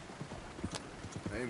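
Horse hooves clip-clop in Red Dead Redemption 2, a quick irregular run of close, moderately loud hoof strikes on the ground, with a voice speaking over them toward the end.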